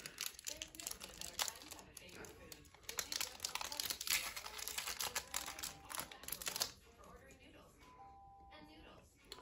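Foil Upper Deck hockey card pack torn and crinkled open at close range, dense crackling bursts for about six seconds before fading to quieter handling, with a voice speaking over it.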